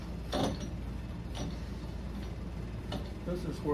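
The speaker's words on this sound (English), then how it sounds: "the spindle lock comes in. Yep, lock it right in there." A spindle lock on a machine with a chuck engages, making a few soft mechanical clicks and ratcheting ticks under quiet talking.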